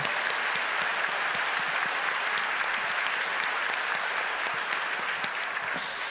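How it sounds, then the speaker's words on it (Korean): A church congregation at a 2022 joint Easter service applauds steadily, a dense wash of many hands clapping together that holds at an even level throughout. "여러분 박수 한번 보내주시기 바랍니다"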